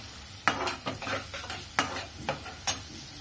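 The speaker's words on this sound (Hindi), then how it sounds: "प्याज को थोड़ा अच्छे से पका लेंगे।" Onions stirred and frying in a pan for pav bhaji, a soft steady sizzle broken by several sharp utensil scrapes and knocks against the pan, close and fairly quiet with no talking.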